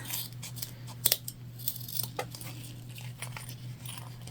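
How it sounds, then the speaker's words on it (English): Scissors trim loose threads and zipper tape on an unlined fabric Christmas tree pouch, a handful of small, close snips and light clicks over a steady low hum, with no talking. "We're just gonna trim our threads because this is unlined."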